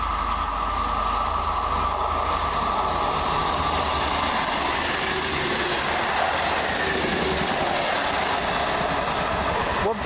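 An Arriva Trains Wales passenger train from Aberystwyth and Pwllheli to Birmingham International rumbles past close by, a continuous loud roar of wheels and engine with rhythmic rail clatter throughout.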